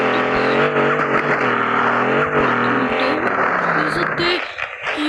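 A Mercedes car engine hums steadily while parking, its tone rising and falling with small throttle changes, under close, continuous talk before fading near the end.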